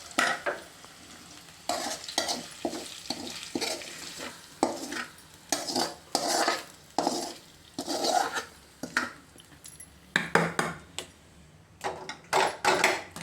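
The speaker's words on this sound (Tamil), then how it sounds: "இப்போ நல்லா மிக்ஸ் பண்ணிக்கலாம்." Kara pongal mixed in a cooking pot with a spoon, producing rhythmic rasping scrapes and soft sloshing strokes in short bursts with brief pauses, close and moderately loud.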